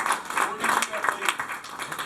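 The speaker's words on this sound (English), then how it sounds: "we're going to do a little round of applause for Tom Banos" A small gathered crowd at a reunion gives a quick round of applause, a dense scatter of hand claps mixed with cheers and chatter.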